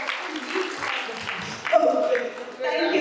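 Clapping rises from an audience at a literature festival session, a short burst of applause mixed with voices talking over it.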